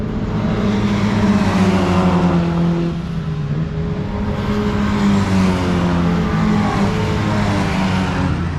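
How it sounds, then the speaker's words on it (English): Classic MGA and MGB sports cars circulate on a race track at an MG/Triumph event, their engines a loud, sustained, throaty drone with shifting revs as the cars pass close by. "MGAs and MGBs just sound so good"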